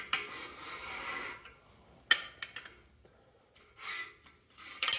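A hand reamer rasps against the metal wall inside an engine cylinder bore, giving quiet scraping strokes broken by short pauses and a few sharp metallic clicks.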